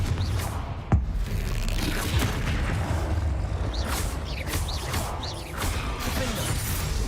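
Confringo fire-blast spells in Hogwarts Legacy, dense rumbling combat with a sharp burst near the start and mechanical crackles and whooshes throughout, loud and continuous.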